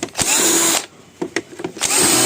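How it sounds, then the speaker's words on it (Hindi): An electric drill runs in loud sustained bursts during an LED TV sound repair, whining steadily, cutting out briefly for a few short clicks and knocks, then spinning up again. "ड्रिल"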